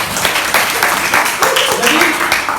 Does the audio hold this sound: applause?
yes